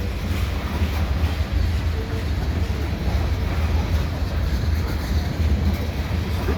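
A northbound CN freight train pulled by three locomotives passes through an industrial area of Saint-Laurent, producing a loud, steady rumble and rolling roar throughout, with faint wheel clatter.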